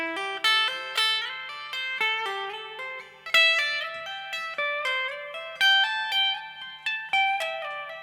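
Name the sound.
guitar hammer-on sequence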